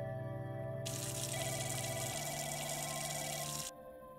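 Steady rush of water from a tap in a video game sink during handwashing, running continuously for a few seconds at close range with a faint hum beneath, then cutting off abruptly near the end.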